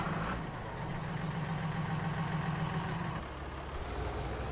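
Ford 8630 Power Shift tractor on duals idling in Farming Simulator 19, a steady low diesel rumble with a humming tone that drops away partway through, leaving a deeper, quieter idle.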